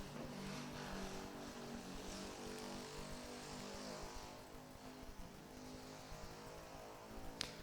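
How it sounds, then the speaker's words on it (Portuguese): A loud motorcycle drones steadily as it passes outside, a constant engine rumble heard from a distance and not loud at this point, with no talking. "Nosso amigo gosta de moto barulhenta, né?"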